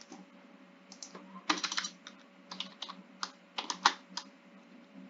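Rapid clicking of a computer keyboard as code is typed, keystrokes coming in quick irregular bursts with brief pauses, close and fairly faint, with no talking.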